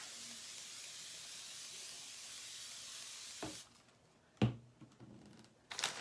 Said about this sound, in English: So now, I'm going to spray again